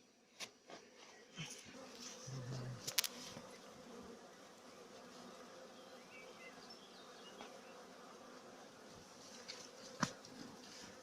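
A steady low buzzing of many aggressive bees at a hive fills the background, with occasional faint knocks and clicks nearby.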